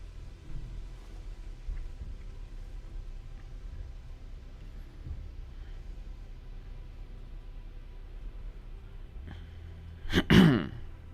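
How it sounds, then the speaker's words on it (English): A man clears his throat once, a short loud rasping burst near the end after a long stretch of quiet background hum. "I have to keep clearing my throat"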